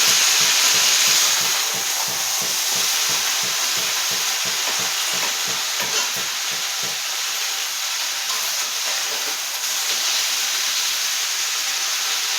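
Chopped vegetables and potatoes frying in a pan give a loud, steady hiss and sizzle, with rhythmic scraping stirs early on that stop partway while the sizzle continues.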